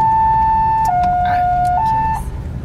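A loud electronic horn plays a two-tone siren pattern, high then low then high again, close by, with faint voices underneath.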